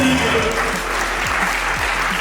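Audience applause at a prize-giving ceremony, a loud, continuous burst of many hands clapping with a low hum and some background voices beneath it.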